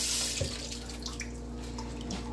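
Water runs from a kitchen tap into a sink while asparagus is cooked, a faint steady splash and trickle with a few soft clunks.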